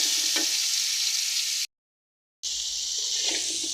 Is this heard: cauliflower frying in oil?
yes